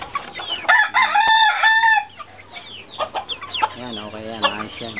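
A chicken gives a loud, drawn-out call, followed by a series of shorter clucks close by.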